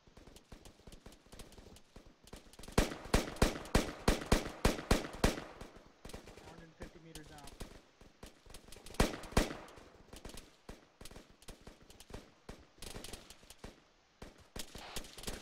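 Suppressive gunfire in the video game ArmA III, aimed at a hilltop: loud rapid automatic bursts rattle out in a dense cluster, then a second short volley, with scattered single shots between.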